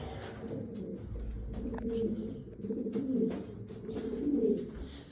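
Pigeons cooing outdoors in soft, repeated low calls, fairly close, with faint background noise and no talking.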